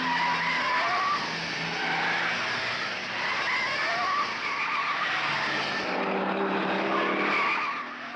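Ford Falcon touring cars race at the 1971 Hardie Ferodo 500 at Bathurst, a dense, continuous roar of engines and tyre noise holding steady for several seconds, with a shift in pitch as cars pass.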